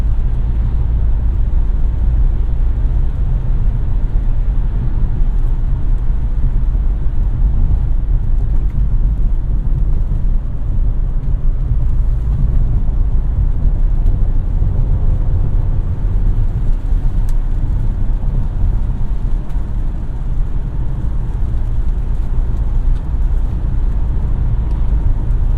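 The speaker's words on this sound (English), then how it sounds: "The engine, I would say, provides an adequate level of power." Steady engine drone and road noise from a 2016 Mazda CX-5 AWD while driving, a constant low hum with tire rumble throughout and no talking.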